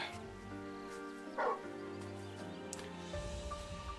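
Torgal, the dog companion in Final Fantasy 16, gives a short bark or yip midway through, set against continuous game music and ambience.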